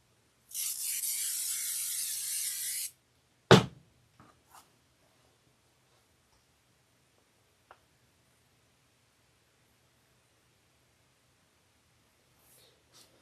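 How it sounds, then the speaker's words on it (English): An aerosol can sprays onto quilt batting and background fabric for a sewing project: one steady hissing burst of about two seconds, close and clear, then a sharp clunk and a few faint handling noises in near silence. "let's give these a shot of spray"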